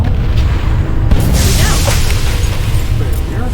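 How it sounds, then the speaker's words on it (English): An explosion in a space-trucking video game lands as a loud, rumbling boom with a bright burst, followed by a sustained low roar and crackle that fills the short stretch, with game effects and voice underneath. "Should be an explosion about now."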